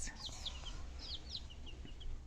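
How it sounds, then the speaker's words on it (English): Speckled Sussex chicks peeping, several thin high chirps scattered over a couple of seconds, faint against a low background rumble. "These are very, very pretty looking birds when they're grown chickens."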